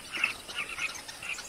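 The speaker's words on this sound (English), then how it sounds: "Carmine bee eaters, named for their favorite prey, gather on nearby perches." Carmine bee-eaters give thin, high chirping calls from perches in African bush near flowering sausage trees, several brief notes in quick succession at moderate distance.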